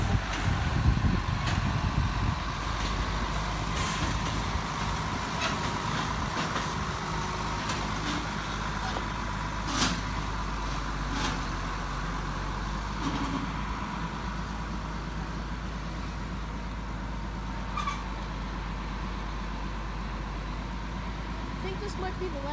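A truck idles and rumbles while pulling a Strates Shows carnival trailer during train loading, a steady low engine drone throughout with scattered clanks and people talking nearby.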